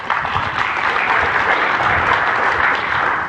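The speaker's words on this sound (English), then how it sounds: "Give her a big round of applause." Loud, continuous audience applause at a group event, a dense, even wash of many hands clapping for several seconds with no gaps.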